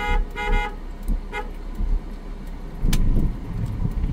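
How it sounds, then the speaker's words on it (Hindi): A car horn honks while driving through a narrow street, a couple of short toots early on followed by a sharper single blast, over low engine and road rumble, with no talk. "हॉर्न दो"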